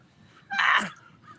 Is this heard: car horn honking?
no